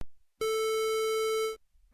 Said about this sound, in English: The most used waveforms are square wave,